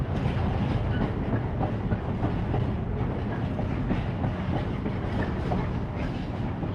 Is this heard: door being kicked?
no